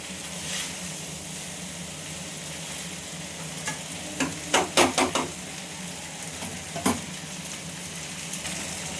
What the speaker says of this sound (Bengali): পাস্তাটা এভাবে মিশিয়ে নিয়ে ভালো করে পাস্তাটা ভাজা ভাজা করে নেব।